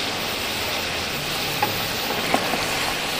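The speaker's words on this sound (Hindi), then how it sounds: "इस गोश्त को तकरीबन मैं 15 से 20 मिनट के लिए इसको अच्छी तरह से भूनूंगी" Mutton frying in a karahi, a steady dense sizzle of hot oil with a couple of faint clinks of stirring, close and even throughout, nobody speaking.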